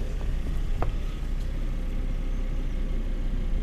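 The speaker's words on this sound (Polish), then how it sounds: "Silniczek." A Volvo V70R engine runs at a steady idle, a continuous low mechanical hum close to the microphone with a faint brief tick partway through.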